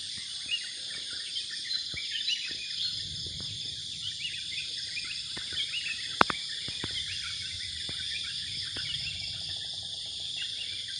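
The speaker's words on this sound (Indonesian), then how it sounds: "Senang suara kicau burung di pagi hari ya teman-teman semua." Birdsong and insect chirping fill a calm outdoor morning, with scattered faint calls and a few sharp clicks over a steady high buzz.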